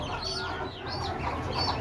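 Desi chickens cluck softly while pecking at paddy, a few close, quiet calls repeating over a low ambient hiss.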